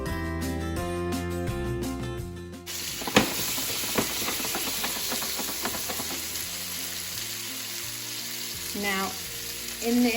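Cooked ravioli is spooned straight from the pan into melted butter, setting off a loud continuous sizzle with scattered pops and clinks, while music plays underneath.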